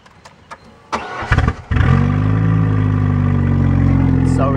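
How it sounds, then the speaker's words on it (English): A loud car engine cranks with a few stuttering bursts, then catches and roars into a steady, heavy idle that stays close and dominant for the rest of the clip. "we're gonna go for a ride in my really loud car"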